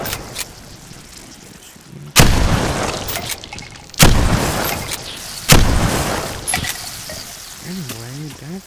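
Three loud shotgun blasts ring out in the VR video game Bonelab, spaced a couple of seconds apart, each a sharp boom with a long fading tail over low background noise.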